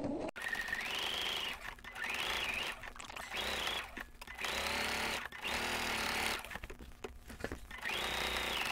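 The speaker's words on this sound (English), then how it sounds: "I'm going to just lock my stitches and sew all the way around." Sewing machine stitching around the edge of a placemat, running in short steady bursts of rapid mechanical whirring separated by brief pauses, quiet and close with no talking.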